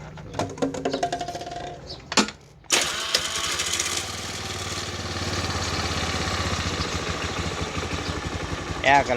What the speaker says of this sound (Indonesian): Sekali starter biasanya menyala.